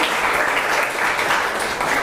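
Dense applause from an audience at a startup demo day, steady and loud for the full two seconds, with no talking over it.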